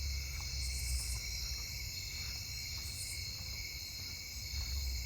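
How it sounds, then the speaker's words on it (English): Snowy tree crickets chirp at night in a residential neighbourhood, a steady high trill with faint rhythmic pulses, heard over low traffic rumble and a few other insect calls. "I'm hearing snowy tree crickets"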